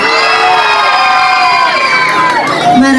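A crowd cheers and shouts at a gay barangay pageant's national costume segment in Santa Cruz, Makati City, a loud, sustained roar of whoops and high voices filling the space throughout.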